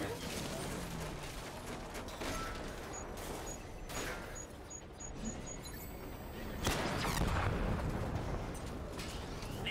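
Bursts of gunfire in the Batman: Arkham Knight game are aimed at an armored drone, coming as repeated sharp volleys over a dense, noisy background of combat sound.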